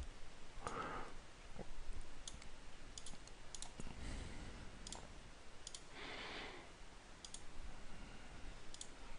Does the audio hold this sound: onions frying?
no